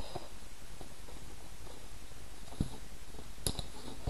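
A small metal binder ring on a handmade paper mini-album snaps shut with a couple of sharp, close clicks over faint paper rustling.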